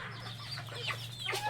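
Chickens clucking in a small backyard chicken pen on a hot, dry farm, several short, near clucks and squawks scattered over a low steady hum, no voices.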